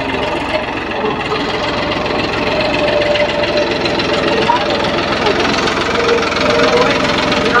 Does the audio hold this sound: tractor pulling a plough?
yes